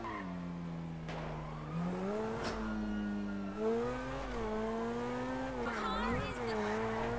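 A Lamborghini speeds along in GTA 5 while fleeing police, its engine note rising and falling steadily, with brief tire squeals and someone talking over the gameplay.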